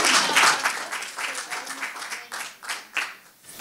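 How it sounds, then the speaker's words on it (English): An audience claps and cheers, loud at first and then thinning into scattered claps that trail off. "Please give him another round of applause."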